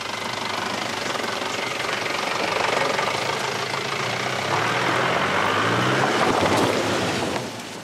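A truck engine rumbles steadily on a remote mountain road in China as passengers set off again, a loud continuous drone that swells slightly mid-way and drops off at the very end, with no one speaking.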